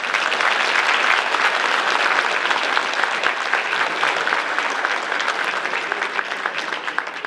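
Sustained audience applause fills a hall at a high school female athletes of the year awards ceremony, dense and steady from start to finish with no voices over it.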